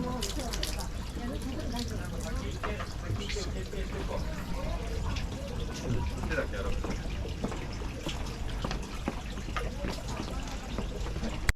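Water splashing and trickling continuously at a shrine cleansing basin in Narita, Japan, with people talking nearby throughout.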